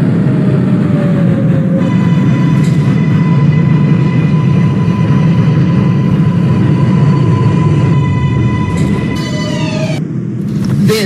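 An R142A 6 local subway train runs in the Openbve train simulator, a steady close rumble of wheels and motors with a sustained electric whine and faint chimes, continuous for about eleven seconds.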